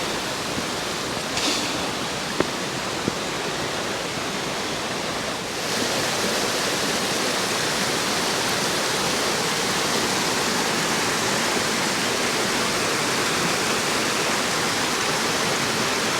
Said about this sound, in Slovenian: Koliko slapičov malih je zdaj tukaj